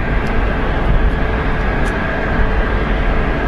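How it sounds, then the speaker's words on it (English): A Boeing 787 Dreamliner airliner passes overhead at a distance, a steady broad roar of jet engines that holds evenly without sharp peaks, with no voices. "I think that's a Dreamliner second out"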